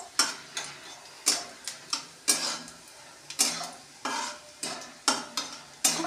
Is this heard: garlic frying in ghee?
yes